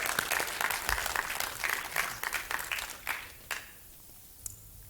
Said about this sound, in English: I want to do a quick applause for the organizers.